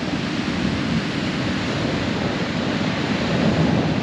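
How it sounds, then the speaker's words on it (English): Steady roar of surf and wind on a rocky beach in Chile, a broad constant rush with no pauses, loud and close, with no voices. "it's pretty rocky, pretty windy, pretty wavy"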